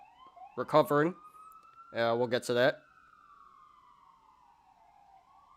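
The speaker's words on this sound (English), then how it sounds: "excuse the sirens, guys. I'm just going to talk over it." A police siren wails outside in one long sustained tone that slowly drifts in pitch, while someone talks over it in two short phrases.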